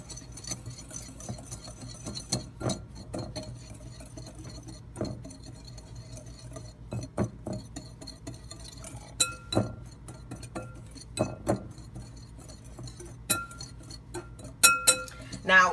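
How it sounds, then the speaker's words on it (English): Whisking baking powder and salt together in a bowl for low-carb, gluten-free coconut chocolate chip cookies gives faint, scattered clinks and taps of the whisk against the bowl, quiet and intermittent over a low background hum. "So I am gonna do my baking powder. I'm gonna add my salt. And again, I'm gonna whisk together."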